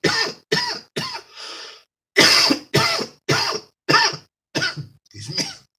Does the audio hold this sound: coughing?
yes